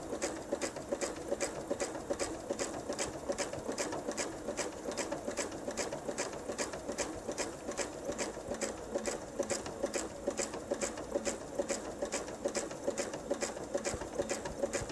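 Sewing machine stitching a jelly roll purse, a steady rapid mechanical patter of needle strokes running evenly throughout at a moderate, close level.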